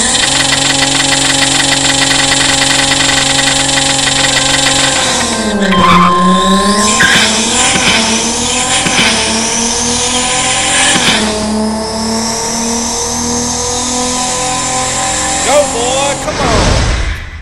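Car engine revving hard through a drag-style run in a racing video game, loud and continuous with rising gear sweeps and shifts, over a steady background; a voice talks over part of it.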